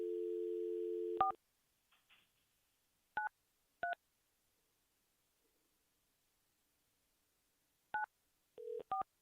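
A landline dial tone gives way to touch-tone dialing: a few isolated beeps spaced seconds apart, then a quick cluster of tones at the end, all clear and close in near silence.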